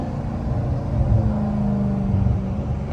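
A Dodge Challenger Scat Pack 392 rumbles steadily and close, its deep exhaust burbling and popping on a downshift, with no talking.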